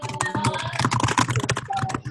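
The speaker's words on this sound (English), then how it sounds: "Who is typing?" Rapid clattering keystrokes on a computer keyboard during a group call, a dense irregular burst of clicks with brief pauses, fairly close and loud.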